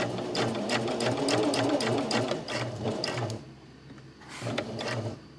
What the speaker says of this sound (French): On va venir faire une couture à 1 cm du bord jusqu'à 1 cm du bord du tissu.